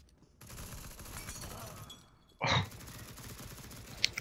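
An AK rifle fires in the video game CS:GO, a loud, short burst of gunshots that stands out over quieter game ambience, with a faint sharp crack near the end.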